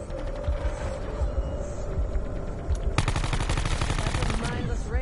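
Rapid gunfire from a video game fills the clip, bursts of shots layered over mechanical clatter, with a dense continuous volley erupting in the second half.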